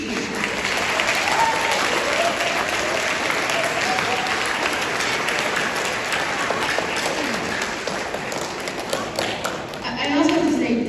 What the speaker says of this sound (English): Accept a round of applause and appreciation